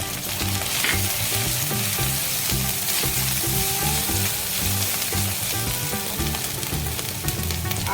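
Green chilli paste with cumin and coriander powder frying in a pan for palak butter chicken, a steady loud sizzle running throughout with continuous crackle and no talking.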